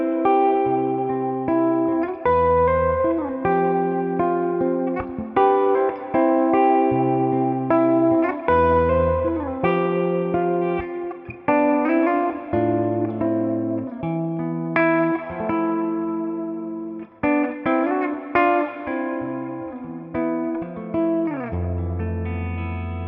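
A distorted electric guitar, a Les Paul Custom on its bridge pickup, plays a melodic run of notes and chords, bright and biting with reverb, loud and continuous without any voice.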